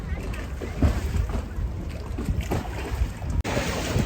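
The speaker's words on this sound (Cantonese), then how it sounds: "咁就呢個開始貢多拉之旅。" A gondola glides along a Venice canal with soft water sounds and steady wind rumble, while people chat nearby.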